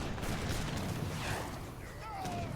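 Heavy cannons, falconets and culverins firing in a large Age of Empires 3 team battle, a dense continuous roar of overlapping booms and shots with whistling projectiles.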